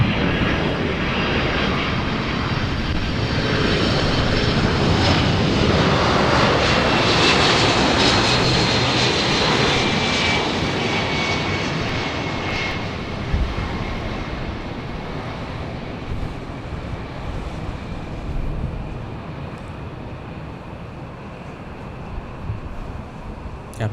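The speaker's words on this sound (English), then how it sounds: "Here comes the beautiful 767 from JFK with the CO6s." A Delta Boeing 767 arriving at LAX from JFK roars overhead, a loud broadband jet rush swelling and then easing off over about twenty seconds, with wind buffeting the microphone and no talking.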